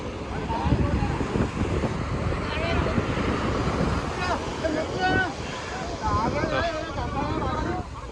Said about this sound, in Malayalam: വഞ്ചി ബോട്ട്